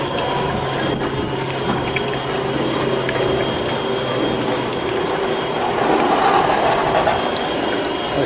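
A shredder press driven by a 1-horsepower motor through an oversized gearbox grinds supermarket waste, making a loud, steady mechanical hum and churn, with faint liquid sounds and no talking.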